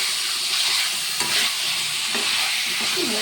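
Steady frying sizzle of meat and chickpeas with a few scraping strokes of a spoon stirring them in a pan, close and continuous.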